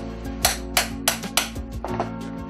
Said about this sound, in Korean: 금박에 도장 모양의 모형을 대고 망치로 두드려 찍어주면